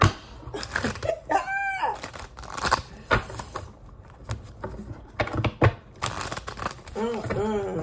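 Tarot cards are shuffled by hand in quick, crisp riffling and flicking bursts, while a voice talks over them now and then.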